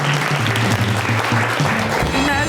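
An audience at a televised stage show applauds steadily and loudly, a dense wash of clapping that holds for the whole stretch, with a voice speaking over it.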